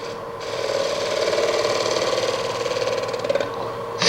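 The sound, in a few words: wood lathe turning the outside of a birch burl bowl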